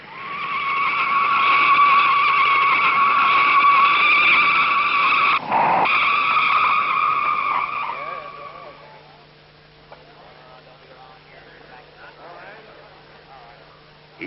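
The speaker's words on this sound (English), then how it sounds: "He takes the flag, and the wheels begin to spin." A 1956 Indianapolis 500 race car spins its wheels and skids, a loud, screeching, whining tire squeal over engine noise that cuts off abruptly, followed by quieter background sound.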